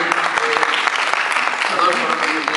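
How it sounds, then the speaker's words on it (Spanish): An audience at a university engineering faculty event applauds for the president, a loud, continuous burst of clapping with some scattered voices mixed in. "un aplauso para el señor presidente"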